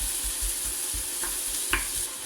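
Potato, cauliflower and chicken filling cooking in a pan, with a steady low sizzle, rhythmic soft thumps of stirring and a couple of brief scraping clinks.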